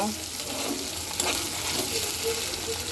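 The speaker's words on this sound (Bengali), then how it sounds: "আদা রসুন পেঁয়াজটাকে সুন্দর করে ভেজে নেব" Onion, ginger paste and garlic paste sizzling in a pan for a country chicken curry, a steady close hiss with light stirring scrapes and no talk over it.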